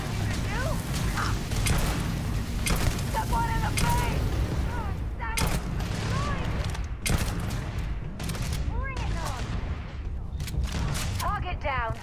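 Enemy gunfire in Starfield: rapid bursts of sharp shots crackle repeatedly over a dense, steady wash of combat noise, with voices faintly mixed in.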